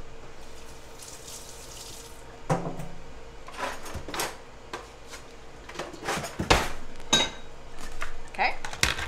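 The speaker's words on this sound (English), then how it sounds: "I'm going to put this in my sink and get a fresh cutting board for my onions." Kitchen clatter as a bowl is set down in a sink and a cutting board is pulled out, with scattered knocks, clinks and scrapes of dishes and wood at close range, some of them sharp and loud, and no one speaking.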